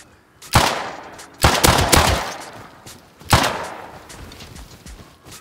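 Gunfire in the survival game Rust during a headshot kill: three loud, close bursts of rapid shots spaced a couple of seconds apart, each with a sharp attack and a trailing echo that fades into quiet.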